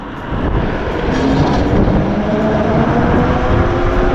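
Electric bike ridden outdoors at full throttle on throttle only, giving a loud, steady broadband rush of wind and rolling noise with a faint motor whine throughout.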